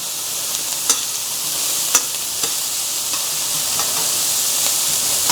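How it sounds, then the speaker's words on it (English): Chopped onions sweat and soften in a pan for a meat sauce, giving a steady, even sizzle with a few soft clicks of stirring scattered through, alone and close. "we just want these to, soften up a little bit, to sweat. Yes, we want the onions to sweat"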